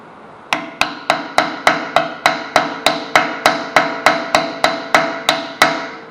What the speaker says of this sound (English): We're going to use our hammer here.